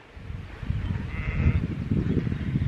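Sheep and young lambs bleat in a field on a country estate garden walk, a steady overlapping chorus of calls over rustling ground noise, moderately close and growing louder after the first half second.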